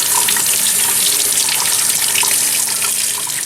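Tap water runs steadily over freshly picked garden cucumbers being rinsed for pickling, a continuous close splashing rush with no pauses and no voices.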